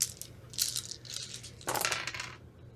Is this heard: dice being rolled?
yes